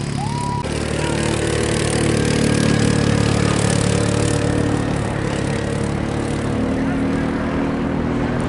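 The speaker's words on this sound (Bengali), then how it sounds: "চলছে এটিভি রাইড।" An ATV engine runs steadily during a ride in Nubra Valley, Ladakh, a loud continuous droning hum with no pauses, holding nearly constant throughout.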